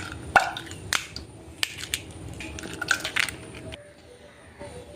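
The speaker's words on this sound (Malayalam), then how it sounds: "ഇനി നമുക്ക് മുട്ടയൊന്ന് ബീറ്റ് ചെയ്തെടുക്കാം" Two eggs whisked in a bowl for a home-style fried chicken batter, giving sharp clicking taps and clinks of the utensil against the bowl in an irregular rhythm, close and fairly quiet, with no talking.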